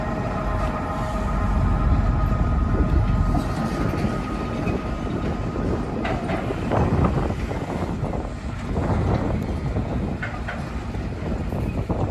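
A freight train hauling auto rack cars rolls past at Decatur, Alabama, a continuous rumbling clatter of wheels with wind buffeting the microphone. The level swells and dips slightly as the cars go by.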